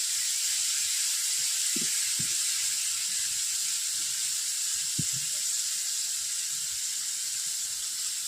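Mustard paste water is poured into a hot pan of vegetables, giving a steady steamy hiss with a few soft knocks and taps over the top.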